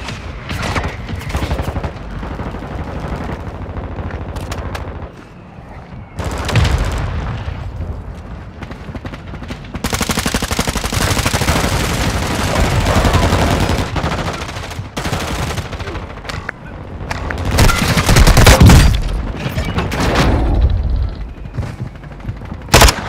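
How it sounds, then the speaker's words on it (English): Gunfire and a mortar strike rage through a Call of Duty: Modern Warfare II battle: loud, nearly continuous rattling rifle and machine-gun bursts are mixed with heavy booming explosions, with brief lulls between them. "Our mortar strike is inbound."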